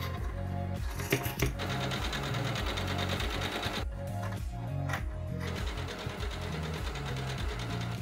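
A sewing machine stitches through fabric pieces for a thrift-flipped outfit, its needle running in steady bursts of rapid mechanical chatter that pause and restart, close and fairly loud, with no talking.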